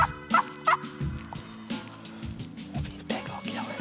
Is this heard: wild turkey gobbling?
yes